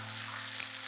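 Shallots, red shallots and scallion whites sizzle in a hot wok, a steady close hiss running evenly through a very short moment with a faint low hum underneath.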